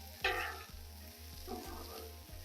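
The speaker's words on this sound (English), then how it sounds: "Got a nice sear on these veggies." Vegetables searing on a Blackstone flat-top griddle, a steady close sizzle over a low rhythmic hum, with two brief louder crackling bursts as food is stirred.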